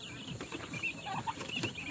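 A large turkey on a farm gobbles in quick, faint bursts amid clucking poultry, heard at a low level from a short distance.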